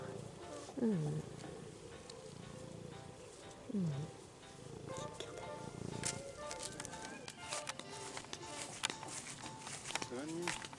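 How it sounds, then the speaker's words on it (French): A cat meows several times with rising-falling calls, spaced apart, over background talk and household noise. "on entend quelqu'un miauler"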